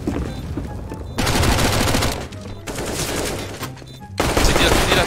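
Pistol gunfire from a Glock in Counter-Strike: Global Offensive, in three loud, dense bursts of rapid shots separated by brief quieter gaps, close and dominant.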